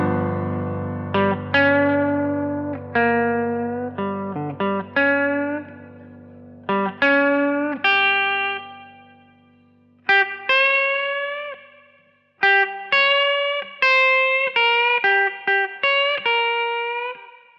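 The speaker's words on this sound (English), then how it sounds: "It can also be reached with a bend from the diminished 5th, which results in a different sound." Electric guitar notes played through distortion and echo trace a microtonal blues scale, including a string bend up from the diminished fifth; single sustained notes ring out one after another with gliding pitch, loud and alone.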